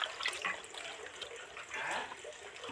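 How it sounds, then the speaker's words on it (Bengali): Water splashes and trickles as a banana flower is rinsed by hand, short close sloshing and dribbling sounds for a few seconds with no talking. "মোচাটা তো ভালো করে ধুয়ে নিতে লাগবে, ভালো করে ধুয়ে নিয়েই তবে কাটবো।"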